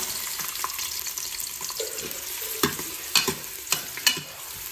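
Chopped onion frying in oil in a pan for mutton curry, with a steady close sizzle, some stirring scrapes and a few sharper clinks toward the end.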